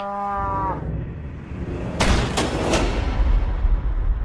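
A cow gives one long, loud moo with a rich, droning tone, close up and alone, followed by several sharp booming cracks.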